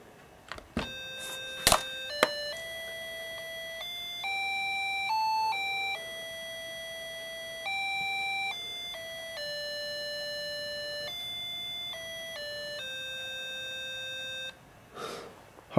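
Square-wave beeping tones from an Epson HX-20 portable computer play a stepped sequence of sustained pitches with short gaps, moderately loud and alone, framed by a few clicks and handling knocks.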